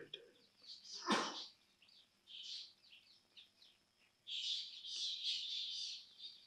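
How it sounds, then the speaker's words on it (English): Distant birds sing outdoors in short, scattered bursts of chirping, with a sharp knock early on and a fuller stretch of calls toward the end. "The birds at a distance, they sing."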